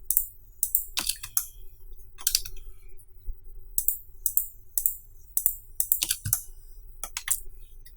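Quick bursts of computer keyboard clicks come in short irregular clusters, close and fairly quiet over a low steady hum, during a Cinema 4D modelling session with no talking.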